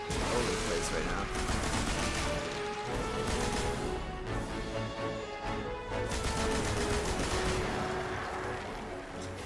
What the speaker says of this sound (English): God bless the heavy gun.